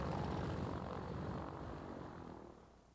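An old Beech 18 twin-engine propeller airplane taxis in at a local airport, its engine drone loud and close at first and then slowly fading.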